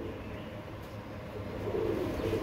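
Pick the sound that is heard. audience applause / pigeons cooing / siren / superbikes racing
pigeons cooing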